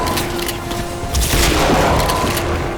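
Shotgun attachment on a rifle fired in an FPS video game: a sharp, crisp blast with a booming tail, loud and close, with no talk over it.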